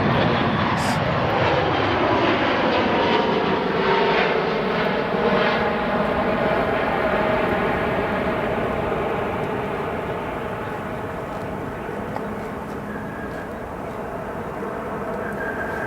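An American Airlines jet at O'Hare International Airport roars loudly and steadily with broadband engine noise, easing slightly as it moves away.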